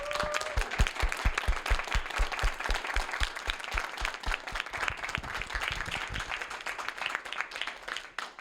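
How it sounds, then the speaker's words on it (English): A crowd applauds, brisk and loud at first, then the clapping thins and fades toward the end. "I think definitely we shall give a collective applause for Sex Rex in particular too."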